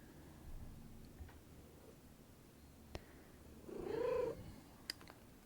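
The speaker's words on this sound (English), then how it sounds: "My cat sounds like a pigeon sometimes." A cat purrs quietly, rising into a louder, throaty trill-like vocalization near the end that sounds somewhat bird-like, with a couple of faint clicks around it.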